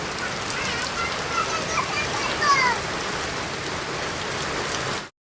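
Steady rain pours onto an open rooftop in a continuous, even hiss that fills the whole stretch, with a faint voice or two blended underneath before it cuts off abruptly.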